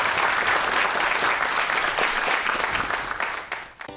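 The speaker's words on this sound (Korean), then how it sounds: "박수 한번 주십시오" A studio audience at a televised talk applauds loudly and steadily, a thick wash of clapping that holds for several seconds before quickly dying away at the end.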